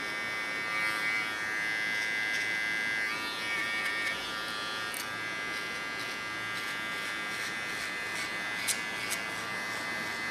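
A small electric hair clipper trims the contour of a short pixie haircut, giving a steady, close, even buzz that runs unbroken from start to finish.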